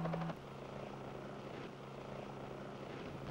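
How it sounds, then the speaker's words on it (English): A Sioux helicopter flies over jungle in Belize, Central America, its steady rotor and engine drone holding at a constant level throughout with no speech. "here we can see a Sioux helicopter flying in the jungle in Belize in Central America"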